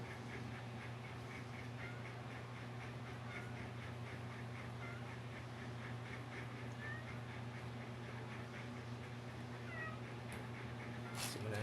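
An adult cat meows repeatedly in a steady run of calls while its ears are being cleaned, close to the microphone over a constant low hum.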